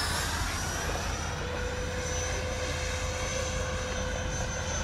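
A Freewing B-2 RC jet on its first flight at Kings Canyon roars steadily and loudly overhead, a continuous broad engine rush with a faint high whine, alone without voices.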